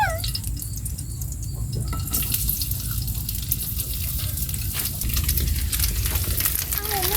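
Hotdogs fry in hot oil in a pan with a continuous, close sizzle and spatter that grows slightly louder toward the end, and nobody speaks.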